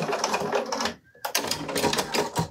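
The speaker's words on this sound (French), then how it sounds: "Et donc là, je viens faire une petite surpiqûre." A sewing machine stitches a small straight topstitch, a rapid buzzing run that pauses for a moment and then resumes, fairly close and moderately quiet.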